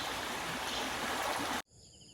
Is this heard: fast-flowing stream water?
yes